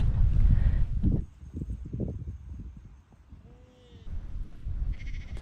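Sheep bleat at close range in a paddock in New Zealand, a few short calls with hoof shuffling and rustling between them, while people speak briefly nearby.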